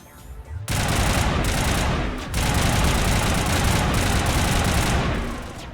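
A gun in the video game Mass Effect fires in long, dense, loud bursts of continuous automatic gunfire, broken by a brief gap near the middle.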